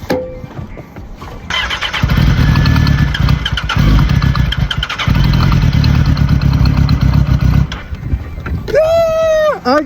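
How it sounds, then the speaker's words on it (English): A motorcycle in cold weather cranks with a short whir, then catches and runs in a loud, rough idle that dips briefly and picks up again. A voice speaks near the end. "I don't even know if the bike's gonna turn on for real"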